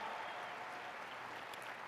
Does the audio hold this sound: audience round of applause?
yes